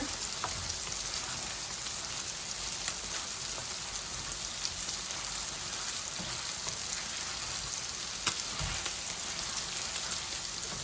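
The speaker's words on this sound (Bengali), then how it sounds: "এই আমার চিংড়ি ভাজাটা হচ্ছে।" Prawns frying in a pan in a home Bengali kitchen give off a steady, even sizzle of hot oil with no break and no voices.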